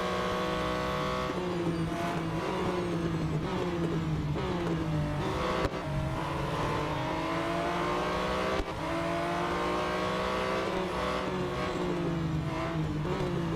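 Race car engines from the mobile game Real Racing 3 drone steadily during an overtaking lap, a continuous whining roar with rising and falling gear pitch sweeps and two brief gear-shift breaks.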